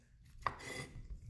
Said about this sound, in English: I'm going to cut each piece into half again with one hand